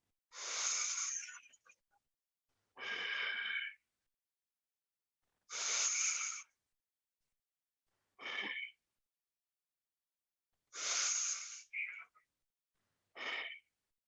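Several deep breaths drawn during a power yoga session: six separate breathy, airy bursts, each about a second long and evenly spaced, heard close and alone against silence.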